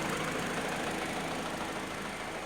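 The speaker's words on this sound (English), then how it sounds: "So now I'll carry on running the engine and make sure the thermostat opens fully" A Peugeot 207cc engine idles steadily, giving a constant, even mechanical hum with no voices over it.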